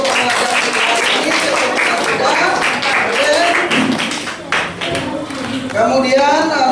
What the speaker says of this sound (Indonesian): tepuk tangan sekali lagi yang meriah untuk pembelajaran ini.